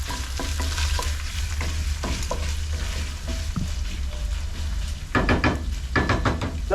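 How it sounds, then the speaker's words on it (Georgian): Minced meat for bolognese frying and being stirred in a pan, with a constant loud sizzle, scattered clacks of the utensil, and a burst of brisk scraping stirs toward the end, close by. "მოვურიოთ ისევ ფარშს. ნელ-ნელა უკვე იწყებს დაბრაწვას, შახარშვას."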